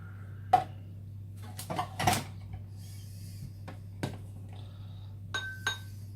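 Chocolate and coconut nice cream being mixed, with coconut cream stirred in, gives scattered glassy clinks and scrapes of a utensil against a bowl over a steady low hum, with no talking.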